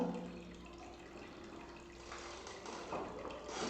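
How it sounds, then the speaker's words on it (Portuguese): Water driven by a pump flowing into a small hydroponics model, a faint trickling and splashing that grows busier over a few seconds under a steady low motor hum. "Olha, ligou a água. A gente já vai perceber a água entrando ali"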